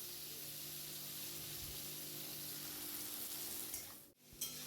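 Bitter gourd fries in a pan, a faint, steady sizzle that runs evenly with a low background hum and ends in a brief sharp clatter near the close.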